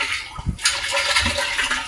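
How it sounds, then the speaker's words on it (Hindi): Water from a pump motor pours intermittently into a rooftop water tank, a close, loud splashing gush that pulses and stutters over a couple of seconds, with no talking. "पानी भी कैसे आ रहा है रुक रुक के"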